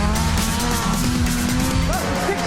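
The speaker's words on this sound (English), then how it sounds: "That's a 600cc snowmobile engine." A Drakkar off-road buggy powered by a 600cc snowmobile engine drives hard, its loud, buzzing engine revving close by with rising and falling pitch and a brief tire squeal.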